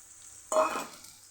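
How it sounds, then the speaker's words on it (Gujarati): Ridge gourd tipped into a pan of sautéed ginger, chili and garlic paste sets off a sudden, brief burst of sizzling that quickly fades back to a soft hiss. "આદુ મરચાં અને લસણ સરસ સતળાઈ ગયા છે તો અહીંયા આપણે તુરિયાને ઉમેરી દેશું"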